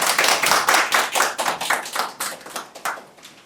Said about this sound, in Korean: 두 번째 강의를 힘찬 박수로 시작하겠습니다.